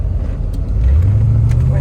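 A 1984 Chevrolet Corvette engine rumbles low and steady, its pitch climbing as the car pulls harder midway through, with faint cabin noise and a voice nearby.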